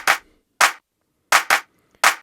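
Five sharp, dry layered clap samples from a drum mix, sounding alone in an irregular pattern: one, a second after a gap, then a quick pair and a final clap, each crisp and close.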